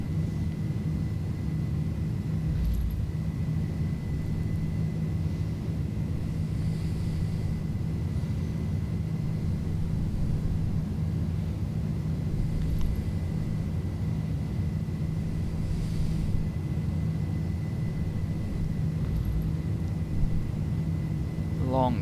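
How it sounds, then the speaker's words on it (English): An Airbus A310 in Microsoft Flight Simulator rolls down the runway for takeoff, a steady loud engine drone and low rumble with a constant tone, with faint thumps now and then. "Long takeoff roll."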